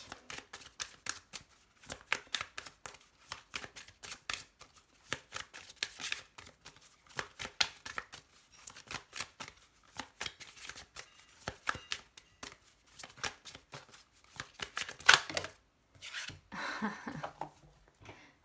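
Oracle cards being shuffled and drawn by hand, a long run of quick papery riffles and soft slaps, close and fairly quiet, coming in uneven bursts with brief pauses between them.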